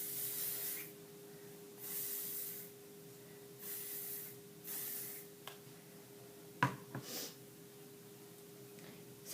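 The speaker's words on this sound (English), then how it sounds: "you want to make sure that you spray all of your hair lightly with hairspray" Hairspray hisses from an aerosol can in several short bursts as it is sprayed lightly over hair, with a few brief clicks and taps near the end, close and fairly quiet against a steady low hum.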